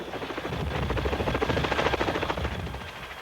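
Military attack helicopter flying, a steady rotor thump and turbine whine at moderate distance, continuous and fairly faint with no talk.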